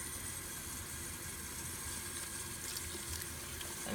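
Running water pours steadily over a baby during a first bath, a continuous close splashing rush without speech.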